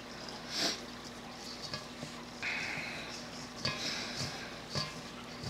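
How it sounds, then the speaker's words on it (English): Two kinds of breadcrumbs for homemade cornbread dressing get tossed together in a bowl, giving soft, quiet scraping and rustling with a few light clinks against the bowl. "We're going to mix the 2 types of breadcrumbs together."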